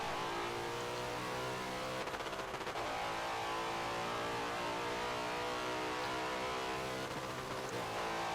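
Race cars in an Indianapolis 8-hour endurance race from a racing game: a continuous loud engine drone with harmonic whine, shifting pitch as cars run in a slipstream, a brief rattling burst midway, no talking.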